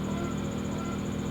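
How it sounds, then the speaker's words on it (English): Generator at an RV dry camping spot runs loud under heavy load during bulk charging, a steady droning engine hum with a constant high whine, continuous and close throughout. "the generator got really loud"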